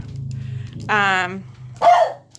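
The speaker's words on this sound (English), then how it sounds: "now she's barking at a motorcycle" A dog barks twice at a motorcycle, loud and close, with low talking before and between the barks.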